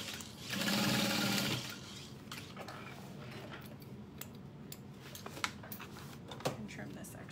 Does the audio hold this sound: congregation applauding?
no